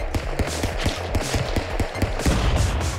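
Gunfire in Stick Fight: The Game comes as quick repeated cartoonish shots and thuds, fairly steady and continuous, loud and up close throughout.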